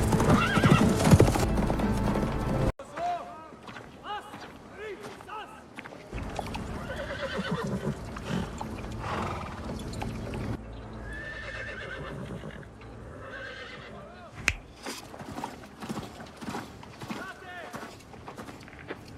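Horses' hooves clip-clop and pound, with loud neighs and whinnies up close, amid a dramatic battle scene with voices and other noise.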